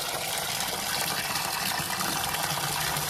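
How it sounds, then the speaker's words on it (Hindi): Water gushes steadily from a tap into a bucket, a continuous broadband rush filling the whole clip at a constant level with no talk. "एक बाल्टी पानी भर दे रहे हैं इधर"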